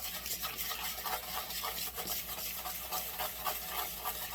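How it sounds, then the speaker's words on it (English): Pastrami meat mixture worked by hand in a bowl, a steady close-up squishing, rubbing churn with repeated pulses and no voices. "I'm gonna hand mix that sucker."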